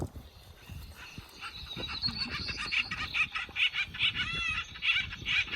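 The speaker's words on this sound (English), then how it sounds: "Can I play a sound of the acorn woodpecker call?" Acorn woodpeckers give a recorded series of raucous, repeated squawking calls in quick bursts, moderately loud over low background rumble and clatter.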